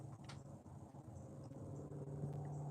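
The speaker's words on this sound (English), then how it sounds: "Now I'm hearing the traffic." A low, steady rumble of distant road traffic drifts in, continuous and fairly faint, with no voices.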